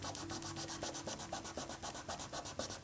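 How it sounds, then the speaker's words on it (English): A wax-coated watercolor pendant is rubbed to buff it, giving a soft, rhythmic, repeated scrubbing friction sound, faint and close with no talking. "I'll go over my pendant and I rub it"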